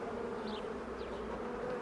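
Honey bees buzz in a dense, steady hum during a hive inspection, with a couple of individual bees droning close by.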